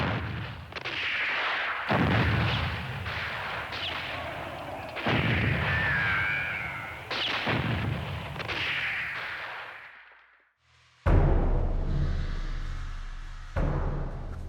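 Heavy Korean War gunfire and booming artillery along the Nakdong River front roll in repeated blasts, with dense crackling shots between them, loud and continuous, followed by a sharp fresh burst.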